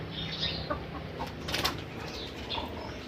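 Young chickens cluck and flutter nearby in a short outdoor stretch, with scattered soft calls and a brief burst of wing flapping over steady background noise.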